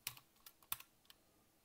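Keys clack on a customised USA ZX81 computer keyboard in a short burst of a few sharp, quiet taps close by, with no voices.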